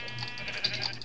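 A Minecraft sheep gives a short, faint bleat in the game, brief and quiet with a low hum beneath it.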